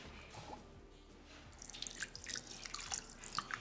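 Tap water running onto raw chicken in a bowl, a soft trickling and splashing that grows a little louder and busier toward the end, with no voices.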